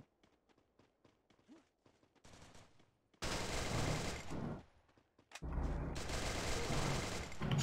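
Free Fire game gunfire played on an emulator: bursts of rapid automatic shooting that come in dense, loud stretches after a quieter opening of scattered clicks and footsteps, with a short pause between the two main bursts.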